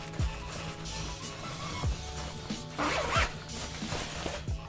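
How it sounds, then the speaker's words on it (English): A zipper on a film changing bag is pulled open in a few short rasping runs, close and fairly quiet, with small handling clicks and rustles around them and no talking. "let's first of all open the changing bag"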